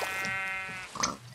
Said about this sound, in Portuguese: Pra matar as ovelhas.